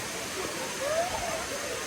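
Sungai Kanching waterfall near Kuala Lumpur sends up a steady broadband rush of falling water, moderately loud and constant, with a brief faint tonal chirp partway through.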